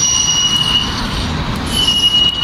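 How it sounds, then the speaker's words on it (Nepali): A metro train arriving, its wheels giving a steady high metallic squeal over a continuous loud rumble from start to finish, with no talking. "मेट्रो आएर चाहिँ गाइस पछाडी हेर्न सक्नुहुन्छ"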